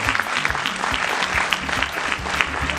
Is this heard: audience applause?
yes